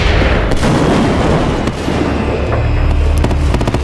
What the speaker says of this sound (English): In a spectacular chain reaction, firework after firework shoot through the building's burnt roof and light up the sky.